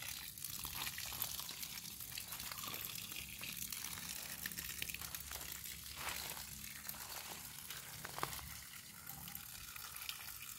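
Water is poured over garden plants, a quiet, continuous splashing gush with scattered small crackles and spatters that goes on unbroken for several seconds.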